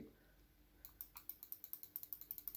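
Soft, muted clicks from an Inphic silent-click computer mouse start after a brief quiet pause, then repeat in a quick, even rhythm, about a dozen light taps close by.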